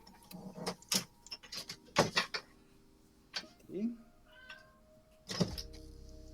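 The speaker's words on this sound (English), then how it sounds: "Can I get a meow?" A cat meows a few times indoors during a card game, short rising calls scattered between clicks, taps and people talking.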